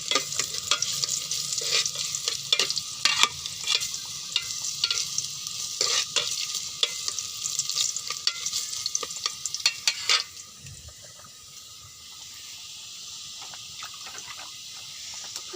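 Red amaranth greens cooking in a pot are stirred, with rapid scraping and clattering over a sizzle for about ten seconds before settling into a quieter, softer simmering hiss.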